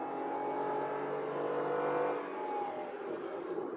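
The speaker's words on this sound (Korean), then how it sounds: "자, 이제 밟으면은 연비가 10 밑으로 떨어질 것 같은데 한번 밟아 볼게요" A Kia Ray light car accelerates hard, its small engine droning loud and steady as revs climb toward the top of the range, heard from inside the cabin.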